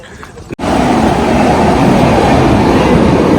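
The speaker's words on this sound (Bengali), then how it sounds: "ট্রেন চলে আসছে না উঠছে মনে হচ্ছে দেখো হুড়মুড় করে চলে আসছে" A train pulls into a station, arriving with a sudden loud, steady rumble that starts after a brief quieter moment and continues densely to the end.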